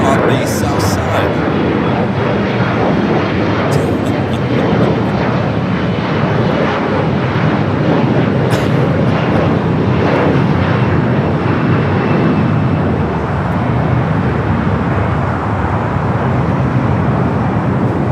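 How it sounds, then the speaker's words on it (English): Airbus A350-900 jet arriving at Los Angeles airport, a loud, steady broadband engine roar that holds for the whole stretch with a slight swell midway, a commentator talking over it. "All right, the A350 and 900 coming up from Nadi."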